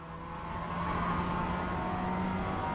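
Race car in a racing video game warming up its tires, a steady engine drone held at constant revs with a faint tire hum, continuous and fairly quiet, with no talking.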